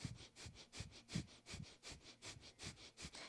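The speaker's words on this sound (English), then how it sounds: "Breath of fire." Breath of fire during a morning yoga practice: rapid, rhythmic forceful exhalations through the nose, about three per second, close and even, with no talking.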